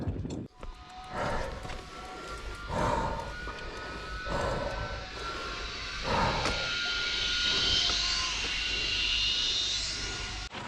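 Zipline riders at Sundance Resort send a rising, whirring hiss along the cable, faint and distant at first and building as they approach, with scattered outdoor knocks and rustle underneath.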